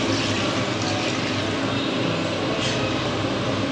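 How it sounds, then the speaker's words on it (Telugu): Water poured into a pot of Rayalaseema-style chicken biryani, a loud, steady, continuous rush of liquid filling the vessel. "Water పోసేసుకోవాలి friends."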